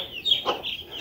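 Young chicks peep in short, high chirps during eye-drop vaccination for Ranikhet disease, with one slightly louder call near the middle, close by and without talk.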